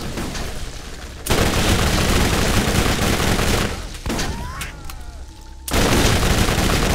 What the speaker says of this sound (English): Took a lot of shotgun rounds.